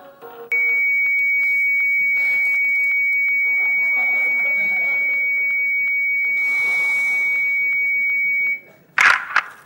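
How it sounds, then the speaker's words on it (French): A long, steady electronic answering machine beep, a pure tone held for about eight seconds over faint background sound, followed by a short burst of noise as it cuts off. "laissez votre message après le bip sonore"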